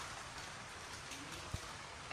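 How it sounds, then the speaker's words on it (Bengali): Steady rain falls outside a home kitchen on a sunny day, a soft continuous hiss filling the background, with one or two faint knocks near the end and no voices. "বৃষ্টি পড়ছে"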